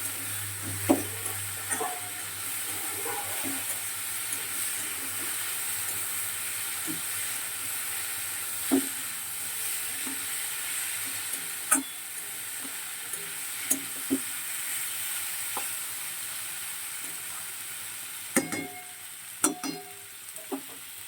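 Pumpkin greens with turmeric frying in a pan with a low, steady sizzle and hiss, broken by scattered scrapes and clicks of stirring over about twenty seconds, with no talking.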